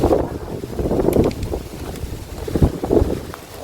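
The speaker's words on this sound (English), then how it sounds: "now it's windy and really raining." Gusting wind and heavy rain buffet the microphone during a wet dog walk by a canal near a nature reserve, a rough rumbling roar rising and falling throughout.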